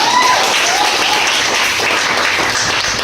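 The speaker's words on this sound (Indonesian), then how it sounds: "kita beri tepuk tangan" Schoolchildren in a classroom applauding together, loud, close, sustained clapping at an even level, with a faint tonal squeal near the start.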